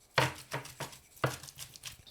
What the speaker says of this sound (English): Chop and mix everything together.